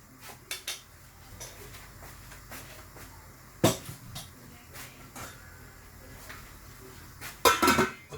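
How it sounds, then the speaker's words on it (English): A lid goes onto a metal soup pot on the stove, with a few sharp clanks and rattles, one loud clatter near the middle and a cluster of metallic knocks toward the end, over a faint room hum. "Now I'm going to cover it to cook."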